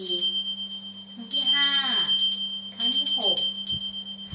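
A small prayer bell rung nine times as an offering to Lord Ganesha, its bright metallic strikes ringing out in spaced bursts while a woman counts each ring aloud.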